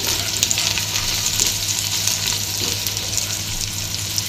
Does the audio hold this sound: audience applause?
no